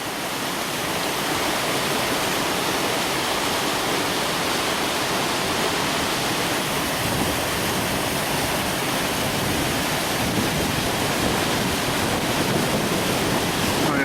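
The River Garry at Killiecrankie rushing through a narrow gorge, a steady, dense roar of fast water that holds constant and fairly loud throughout, with no voices.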